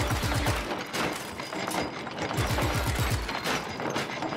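Rapid automatic gunfire in the video game Just Cause 3, dense continuous bursts of shots with booming low thuds, loud and close throughout.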